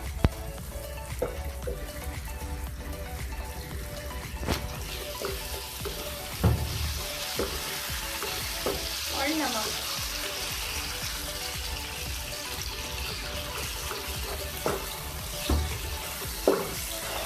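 Tomatoes softening with chopped green chillies in a frying pan for an egg omelette, giving a steady sizzle with scattered clicks and scrapes of stirring throughout, no voices.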